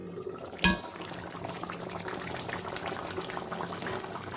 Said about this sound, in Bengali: এই যে রান্না চলছে, প্রায় হয়ে এসছে